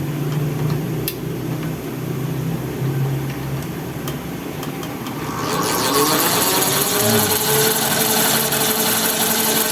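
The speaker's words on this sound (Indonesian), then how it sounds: "Coba kita tes motor dulu." A gear motor on a modified dynamo coil winder with digital speed control hums steadily, then grows louder and brighter midway as it speeds up and whirs with a mechanical rattle.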